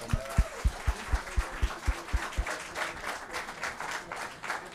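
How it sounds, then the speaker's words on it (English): Audience at a credit union summit clapping, with distinct rhythmic claps at first that blend into a scattered, thinning round of applause. "Let's give them a round of applause."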